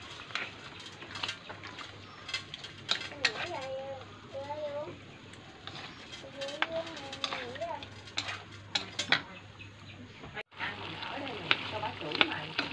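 Garden duck meat frying and being stirred in a pot while searing before water is added, with sizzling and scraping of utensils against the pot under intermittent talk from a nearby voice.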